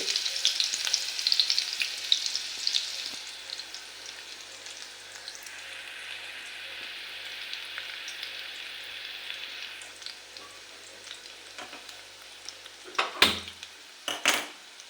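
Garlic sizzles in hot oil in a pan, with clinking of a metal spoon or utensil against the cookware; a bright frying hiss dominates early, then quieter sizzling and a few sharper scrapes near the end.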